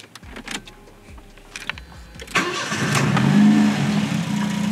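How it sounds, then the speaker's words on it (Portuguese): Volkswagen Gol G2 with a weak, misfiring engine is cranked and fires up, a few rhythmic starter turns giving way to a louder, steady running engine close by, with no talk. "Deixa eu dar partida no carro."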